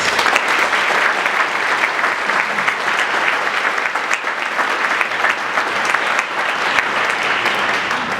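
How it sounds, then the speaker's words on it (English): Sustained audience applause fills a State of the City address in St. Petersburg, dense steady clapping that holds at full strength throughout without speech over it. "Would you please give them a round of applause?"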